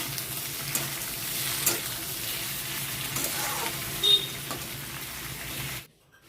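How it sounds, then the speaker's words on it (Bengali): Chicken pieces frying for chilli chicken in a pan, a steady close sizzle with occasional stirring clinks, cutting off abruptly at the end. "ভালো করে ভেজে নেব"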